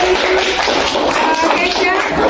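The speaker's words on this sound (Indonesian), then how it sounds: "Ayo kita beri aplaus dulu teman-teman." A class of children applauds together in a steady, dense patter of clapping that fills the room without pause.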